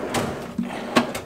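A large drawer beneath the TV in a luxury hotel suite slides open or shut, giving a few short wooden knocks and scrapes close by, with no one speaking.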